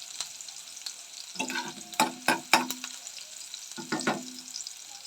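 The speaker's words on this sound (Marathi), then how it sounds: "कांदा छान फ्राय करून घेऊयात" Onion frying in a pan, a quiet sizzle punctuated by a few louder stirring scrapes and bursts in the middle and near the end, no voices.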